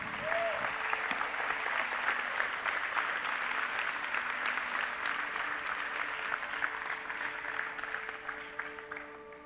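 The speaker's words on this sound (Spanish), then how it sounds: "Brinden un aplauso al Señor" A church congregation applauds steadily for several seconds, a dense wash of clapping with faint voices and a sustained organ or keyboard tone underneath, tapering slightly toward the end.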